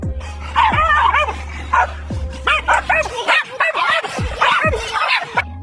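A Cane Corso, a huge dog breed, barks loudly and repeatedly, with deep booming barks mixed with higher yelps and whines, close by and without any talk.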